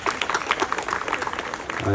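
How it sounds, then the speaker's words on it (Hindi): An audience at an event for an environmental protection and humanitarian service organization gives a short round of applause, brisk clapping that mixes with voices and fades within a couple of seconds. "ताली बजा दीजिए"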